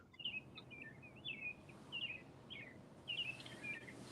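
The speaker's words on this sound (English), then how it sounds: "You can hear your birds chirping outside your house." Small birds chirp outside a house in short, repeated bright bursts spread through the clip, fairly faint against a steady low background rumble, with no one speaking.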